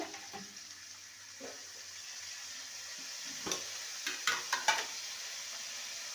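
Fried ginger in a pan for a vegetarian moong dal sizzles as a little water and dry spices go in, a steady hiss with sharp crackling bursts and stirring clatter growing louder toward the end.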